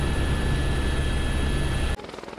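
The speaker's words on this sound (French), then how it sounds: "C'est en hélicoptère que nous débarquons comme d'habitude." A helicopter's loud, steady rotor and engine roar fills the clip while landing in the French Southern Lands, then cuts off abruptly near the end, leaving a quieter rumble.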